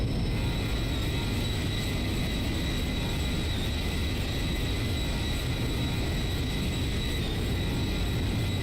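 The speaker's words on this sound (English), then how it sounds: "Performance takeoff right here," Jet airliner engines spooling to full power for a performance takeoff in the X-Plane 12 flight simulator, a loud, constant roar with a thin high whine held steadily throughout.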